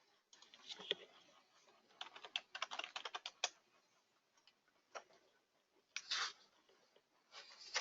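Login credentials tapped out on a computer keyboard: clusters of close, crisp keystrokes in uneven bursts with short pauses between, fairly quiet and with no talking.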